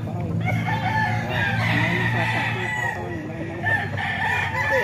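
A banded rooster kept in San Jose del Monte, Bulacan, crows amid a backdrop of other fowl calling and clucking nearby, with a busy steady yard ambience underneath.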